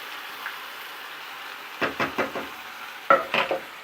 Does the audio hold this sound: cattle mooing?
no